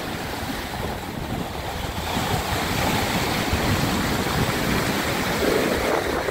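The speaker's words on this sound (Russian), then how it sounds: "А здесь у нас обалденные волны, красивые." Strong sea surf breaks on the beach at Lazarevskoye, Sochi, near where a river meets the sea: a continuous broadband roar of waves with wind buffeting the microphone, growing slightly louder midway.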